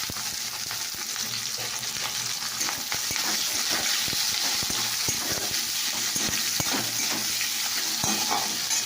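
Chopped onions frying in hot oil with cinnamon and bay leaf, a steady loud sizzle throughout with occasional sharp crackles and utensil stirring clicks.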